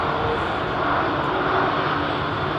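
A Boeing 787-9 takes off from runway 27 right at London Heathrow, its engines giving a loud, steady broadband roar that holds evenly throughout with no voices.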